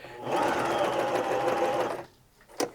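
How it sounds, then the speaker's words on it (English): A Baby Lock Zest sewing machine stitches fabric in a fast, steady whir for about two seconds, then stops, followed by a brief faint click nearby. "I like to hand walk a few stitches just to make sure I have my stitch into the fabric"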